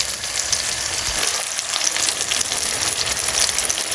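Onion, garlic and tomato frying in a pan for beef mechado, a dense, steady sizzle with fine crackling, close and loud, without any talk.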